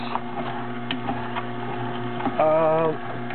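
A juicer machine grinding a whole head of escarole hums steadily with a mechanical drone and faint clicks, then briefly labours with a rising strained whine as it bogs down.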